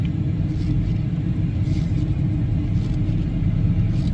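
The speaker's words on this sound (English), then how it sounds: "The engine sounds good." A truck's engine idles smoothly with a steady, low rumble, heard from inside the cab with no speech over it.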